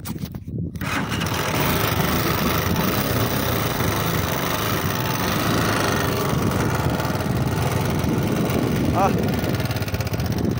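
An LTM motorcycle engine runs loud and close for the whole stretch, a steady rough drone without pauses or clear revs.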